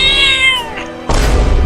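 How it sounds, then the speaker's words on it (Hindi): A cartoon cat gives a drawn-out, falling meow in a high voice that fades, followed by a sudden burst of louder broadband noise, with no talk over it. "बिल्ली भी मुझे काटने वाली है"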